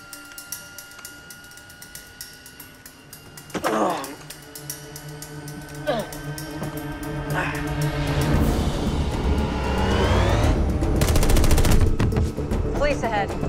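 Gunfire effects in a Westworld scene come as sharp scattered shots, then swell into dense, rapid automatic fire over a rising orchestral score with sustained tones and no talk.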